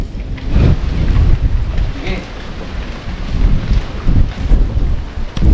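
Wind buffets the microphone outdoors in Taichung, a steady low rumbling roar that surges in gusts throughout.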